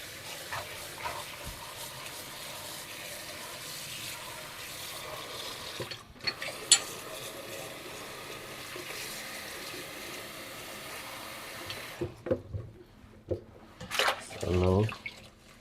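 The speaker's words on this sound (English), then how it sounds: "Wash off all the pesticide of the Callaoo," Callaloo washed with baking soda under running water, a steady tap flow with splashes and handling clatter, louder bursts near the end, while a voice talks in the background.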